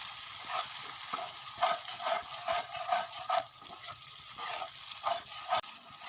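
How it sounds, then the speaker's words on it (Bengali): Whisked sour yogurt stirred and fried into a spice paste in a pan for a yogurt katla fish curry: soft sizzling under repeated, rhythmic scraping strokes of a spoon. "এবার আমি দিয়ে দেবো ফেটিয়ে রাখা টক দই ভালো করে কষিয়ে নেবো"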